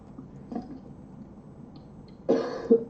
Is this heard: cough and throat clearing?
yes